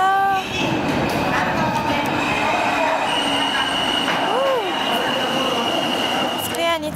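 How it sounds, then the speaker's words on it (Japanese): A New York subway train runs through a snowy city during a snowstorm, giving a steady loud rumble of wheels on rail with sharp metallic squeals rising near the end of the passage. "ただ地下鉄は動いているのでしょうか。"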